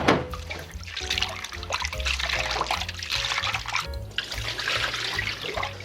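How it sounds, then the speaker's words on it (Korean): Salted seaweed stems being washed by hand in lukewarm water, with steady splashing, trickling and sloshing close by that continues throughout, and no talking. "저는 약간 미직지근한 물에서 씻어요."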